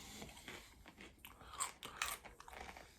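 Crunchy, smoky bacon-flavoured corn flakes with hard corn bits are bitten and chewed close by, giving quiet irregular crackling crunches with no talk.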